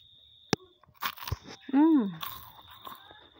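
Someone bites into a crunchy cromboloni pastry close up, giving a sharp crisp crunch and some chewing, with a brief sung or hummed tone in between.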